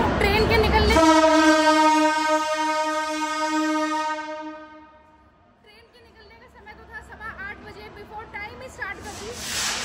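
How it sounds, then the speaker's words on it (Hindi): Sundarban Express of Bangladesh Railway at Dhaka station sounds a long, loud horn for about four seconds, then moves off with rattling, clanking wagon and track noise that rises again toward the end; a voice is heard as well. "सुंदरबन एक्सप्रेस ट्रेन के चलने का समय है ढाका से सुबह के 8:15 पे"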